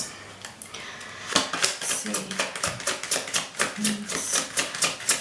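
Tarot cards shuffled in quick, rapid riffling bursts, a steady train of crisp papery flicks and snaps up close, with a brief spoken word near the start.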